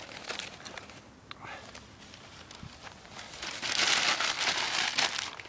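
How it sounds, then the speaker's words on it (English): Newspaper crumpled by hand into a ball for a fire, a steady crinkling rustle that swells louder and denser toward the end, heard up close with no talk. "You would crumple this up into a ball."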